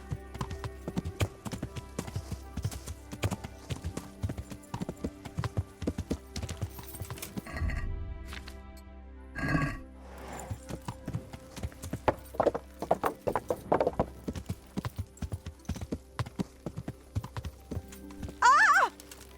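Horse hooves clip-clop steadily at a walk in the medieval game Kingdom Come: Deliverance, close and continuous over ambient sound, with a brief neigh near the end and no talk.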